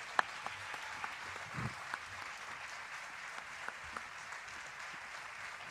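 Audience applause at a closing ceremony of a cultural event in Tortosa, a steady spread of many hands clapping at moderate distance, with scattered sharper claps standing out throughout.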